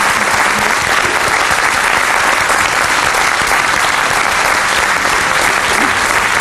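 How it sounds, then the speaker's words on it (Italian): An audience applauds a guest, a marathon walker, with loud, dense, sustained clapping that fills the room evenly from start to finish, with no break and no speech. "E io penso, cioè, salutandoti Michele, io penso che si meriti un applauso."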